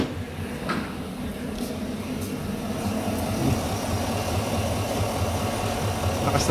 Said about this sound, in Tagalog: check na lang natin kung anong cylinder ang misfire niyan